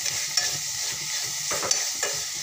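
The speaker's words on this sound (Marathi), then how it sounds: "असं भाजीला अधूनमधून छान मस्त असं परतत राहायचं, कारण आपली भाजी करपली जात नाही।" Amaranth leaf bhaji fries quietly in a pan under a soft, even sizzle, with a spatula stirring it in a few brief scrapes and taps.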